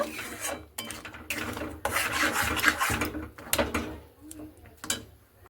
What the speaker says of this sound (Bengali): এবার ভালো করে নাড়তে থাকবো চিনিটা গলে যাওয়া পর্যন্ত